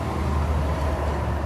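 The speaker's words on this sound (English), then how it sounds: "sorry about the noise from the highway." Steady rumble of nearby highway traffic beside a farm, continuous and fairly loud with no distinct passing vehicles standing out.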